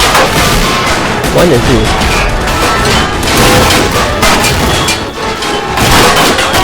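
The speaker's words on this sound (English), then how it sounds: "Come on, artillery, fire." Artillery rumbles in a toy war strategy game, with dense overlapping booms and gunfire forming a loud, continuous barrage. A voice speaks briefly over the roar.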